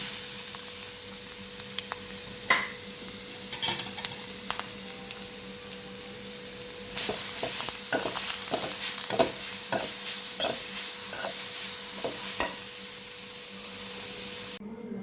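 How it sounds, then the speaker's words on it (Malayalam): Beetroot frying in a pan gives a steady sizzle, with clicks and scrapes of stirring that grow busier and louder partway through. "അതിലേക്ക് ബീട്രൂട്ട് ഇട്ട് കൊടുക്കുന്നു"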